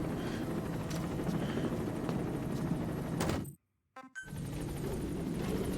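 A helicopter in the video game Metal Gear Solid V: The Phantom Pain gives a steady, loud rotor and engine drone that cuts out abruptly for about half a second, then resumes at full strength.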